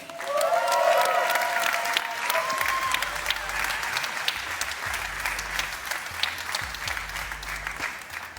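A crowd applauds steadily for several seconds at the electric Mercedes-Benz GLC world premiere at IAA Mobility 2025, dense clapping with a few whoops and cheers at the start, then tapering slightly.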